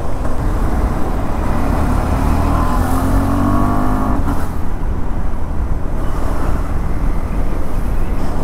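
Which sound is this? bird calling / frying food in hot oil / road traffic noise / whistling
road traffic noise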